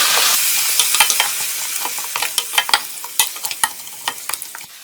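A paste of coriander leaves, ginger, garlic and green chilli fries for a beef masala, a loud close sizzle with spoon scrapes and stirring clatters growing more frequent in the second half.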